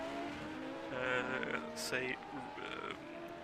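A voice imitates a frog croak to mock a failing race car engine during commentary on a 1987 CART Molson Indy Toronto race, a series of warbling, gurgling croaks mixed with talk.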